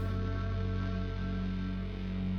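Distorted music with a dense, sustained harmonic wall and a heavy low-mid resonance, steady and loud throughout with no voices.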